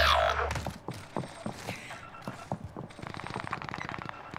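A Milano submachine gun fires in Warzone, rapid gunfire that starts as heavy, close bursts, then gives way to scattered shots and a fast rattling burst near the end.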